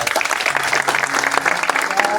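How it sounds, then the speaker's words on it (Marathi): Crowd applause for Kishor Khandale at a blood donation camp held at a cremation ground in Jalna for Sant Gadge Baba Jayanti: dense, steady clapping from many hands for about two seconds, with a voice faintly underneath. "त्यांच्यासाठी एकदा जोरदार टाळ्या"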